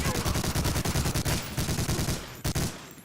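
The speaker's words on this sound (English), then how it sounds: "So the MG42 in this game is mostly accurate." An MG42 machine gun in the World War II shooter Medal of Honor Allied Assault fires a long, loud, rapid continuous burst of rounds, briefly pausing before a final shot.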